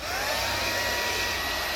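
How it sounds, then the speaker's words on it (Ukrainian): A hair dryer blows steadily at close range, warming a fogged Ford tail-light housing through a small opening, a continuous whooshing airflow with a faint motor whine and no talk. "Щоб коли ми беремо фен"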